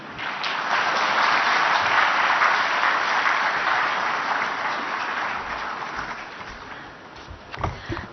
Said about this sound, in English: a huge round of applause for everyone on the dais